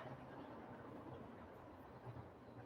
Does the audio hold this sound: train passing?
yes